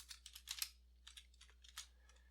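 Keys clatter on a computer keyboard in quick, uneven clusters of soft taps, faint and close, with a brief pause midway and no talking.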